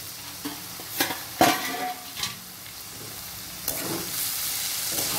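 Bottle gourd peel and potatoes are stirred in a frying pan: a soft, continuous sizzle is broken by several sharp scraping strokes and spoon clinks against the pan.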